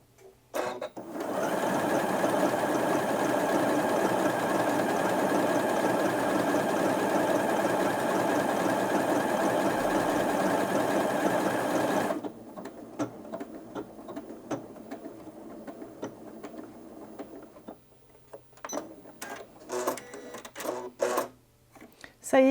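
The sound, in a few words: Janome Atelier 7 sewing machine automatically stitching a pattern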